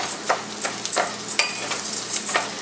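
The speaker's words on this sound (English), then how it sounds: "and toast it. Stir from the center to the side." Arborio-style risotto rice being toasted in a pan sizzles steadily while a spoon stirs it in repeated scraping strokes, roughly three per second, close up and without speech.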